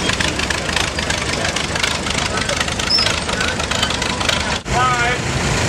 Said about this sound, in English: That's the tractor.